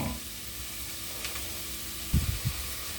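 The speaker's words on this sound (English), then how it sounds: "we're sweating out the flavors of the onion and garlic" Onion and garlic sweating in a pan for beef birria give a soft, steady sizzle, with a couple of brief low thumps near the end.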